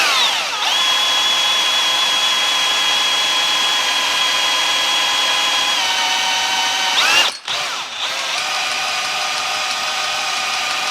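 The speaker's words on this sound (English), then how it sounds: "let's try this drill here. I got a variable speed on it." Variable-speed electric drill working on a steam stoker engine cylinder block, a loud steady whine held for several seconds, briefly dropping and cutting out near the end before spinning up again.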